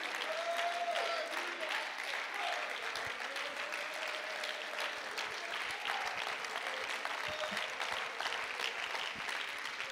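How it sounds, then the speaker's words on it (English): A church congregation claps hands during a Wednesday night Bible study service, continuous even applause-like clapping filling the room at moderate level, with faint voices mixed in beneath. "Would you clap your hands?"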